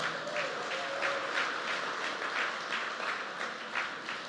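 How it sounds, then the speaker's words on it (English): Sustained audience applause for a mayor at a political event with a congresswoman, dense even clapping from a large crowd, loud and continuous with no talk over it. "Now you got to give Mac Wilburn another round of applause."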